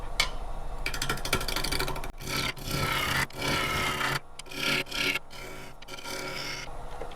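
Green apple wood hollow form roughed on a wood lathe at about 750 RPM, a steady loud rasping cut with bursts of shavings and brief gaps as the gouge lifts off, no talk.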